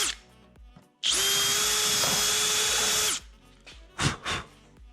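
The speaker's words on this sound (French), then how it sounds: "Je perce et je mets la vis directement pour que les trous ils soient bien coïncidents" A power drill runs in one continuous high whine for about two seconds while drilling and driving a screw into a plastic fairing on a Honda CBR 600RR track bike, followed by short clicks and handling noises.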